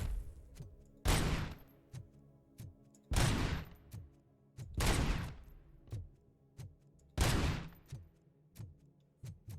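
Gunfire in the Robocop Rogue City video game, with loud, heavy shots in an uneven rhythm, five big blasts among quieter ticks and clicks, and no talking.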